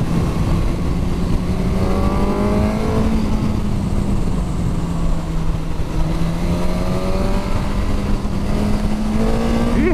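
A Suzuki GSX-S1000 motorcycle rides close along narrow Yorkshire lanes as it overtakes a car. Its loud, steady engine drone swells and dips in pitch with each throttle change, and no speech is heard.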